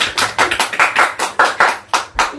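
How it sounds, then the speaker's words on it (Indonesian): A classroom of students clapping hands together in a lesson, a series of about ten sharp, separate claps in an uneven rhythm, close and fairly loud, with no talking over them. "Tepuk tangan semuanya."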